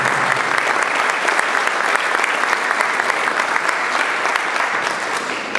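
An audience applauds the founder, Jeff Robertson, at the 2021 Live United Bowl team announcement: loud, sustained, dense clapping from a crowd indoors, holding steady for several seconds before easing slightly at the end.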